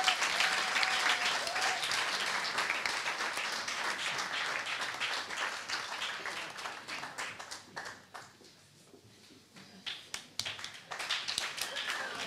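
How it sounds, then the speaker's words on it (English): Audience clapping for a karaoke performer at a youth orchestra graduation, dense applause that thins and fades toward the end, then scattered claps return. "Round of applause for Melissa."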